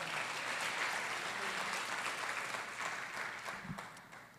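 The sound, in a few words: church congregation applauding the Lord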